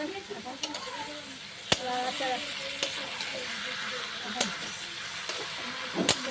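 Boiled jackfruit and potato sautéed in a pan with turmeric and salt, with a steady low sizzle and a few sharp scraping stirs of a spatula against the pan, close up, and faint voices in the background.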